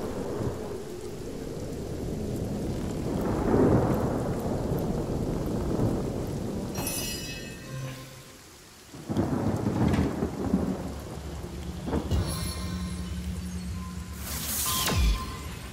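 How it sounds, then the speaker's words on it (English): Steady rain pours while rumbles of thunder roll in, with sharp cracks and a few brief whooshes near the end, in the video game Divinity: Original Sin Enhanced Edition. "It's because I made it rain."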